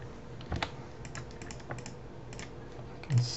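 Computer keyboard keys pressed while working in Maya 3D modeling software, a few scattered clicks and taps close by, with a louder thump near the end, no talking.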